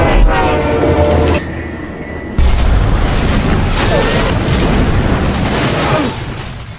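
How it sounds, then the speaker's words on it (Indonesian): A powerful explosion in a tense movie scene sends out a sudden loud boom and a long, dense roaring rumble with debris noise that slowly fades, following a brief quieter stretch. "Akibat dari ledakan yang dahsyat itu"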